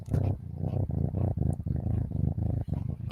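A cat purrs close to the microphone in a steady, rumbling rhythm, with repeated low pulses of breath running through the whole stretch with no gaps.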